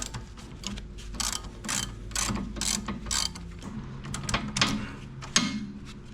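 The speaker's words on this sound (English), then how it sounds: "It's a 17mm nut on the top. So we'll start by taking that off first." A ratchet wrench removing the 17mm top nut from a sway bar link on a Jeep XJ: repeated rapid clicking bursts in an uneven rhythm, close and fairly loud, with no talking.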